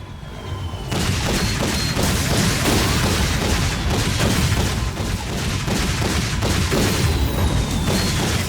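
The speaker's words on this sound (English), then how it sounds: "Dropship 1 is taking a beating. Good, keep up that covering fire!" Dense, continuous gunfire and booming blasts in the first-person shooter Damaged Core as a dropship takes heavy fire, a loud sustained barrage of overlapping shots and explosions with no letup after a brief quieter opening.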